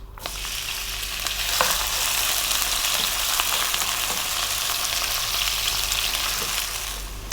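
Onions fry in a pan with black peppercorns and cloves for a chicken curry, a loud, dense, continuous hiss with a few faint stirring taps, heard close and alone.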